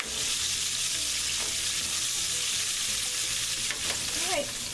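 Sausage paella stirred in a frying pan with a cooking spoon, giving a continuous loud sizzle and frying hiss with faint scraping strokes near the end, heard up close and alone.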